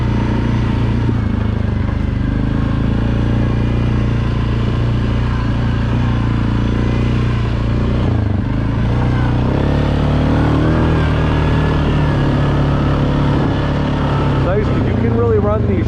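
An ATV engine drones loud and steady while riding wide, groomed ORV trails toward a campground, a continuous close rumble with slight shifts in revs throughout.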